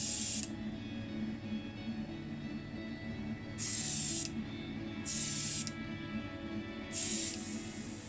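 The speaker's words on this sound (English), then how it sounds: "Enamel straight over the bare casting now." Four short hissing bursts of enamel spray paint onto the bare die-cast casting of a 1969 Matchbox No 18 Field Car, each separated by a brief pause, over a low background hum.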